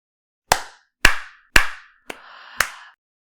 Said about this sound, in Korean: 그리곤 갑자기 열렬한 박수를 치기 시작했다